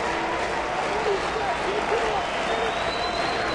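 A baseball stadium crowd of about 24,000 cheers and applauds after a good breaking-ball pitch in an extra-inning game, a dense, steady roar that fills the space, with a voice talking over it.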